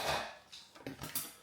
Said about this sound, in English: Take your lid, like I said, fold the handles in